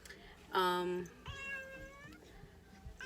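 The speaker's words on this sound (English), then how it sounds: "And here's my little cat." A house cat lets out a loud, drawn-out meow close to the microphone, followed by a second softer, wavering meow, with faint household sounds around them.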